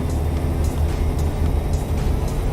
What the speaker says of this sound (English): at least for you, you know, you could get rid of the sewing machine engine